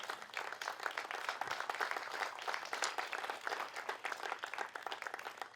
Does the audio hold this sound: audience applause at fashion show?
yes